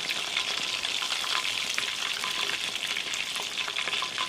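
Pieces of chicken frying steadily in hot oil for Thai-style fried chicken, a dense, continuous crackling sizzle with fine popping throughout, close and even, with no talking.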